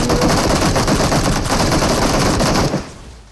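Sustained automatic gunfire in PUBG Mobile rattles out in a dense, loud, rapid burst lasting nearly three seconds before cutting off abruptly.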